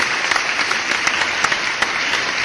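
An audience claps steadily at a hanbok fashion show in a Busan hotel event hall, with dense, continuous applause and a few sharper individual claps standing out, and no cheering.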